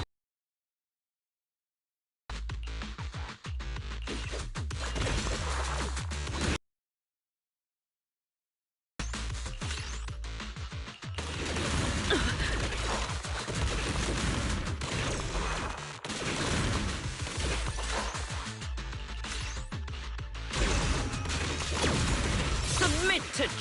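Explosive attacks from a bombardier enemy in the video game Zenless Zone Zero: dense, loud bursts of blasts and crashes over continuous game sound, broken by a short silence early on before the barrage resumes and continues to the end.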